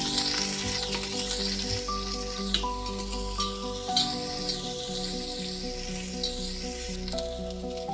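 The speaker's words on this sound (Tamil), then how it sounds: "பச்சை மிளகாய், பூண்டு, இஞ்சி, கொஞ்சம் ஆனியன்ஸ் எல்லாத்தையும் போட்டு நம்ம வந்து வதக்கிக்கலாம்" Green chillies, garlic, ginger and onions sauté in hot oil with a constant close sizzle and occasional stirring, steady and fairly loud with no voices.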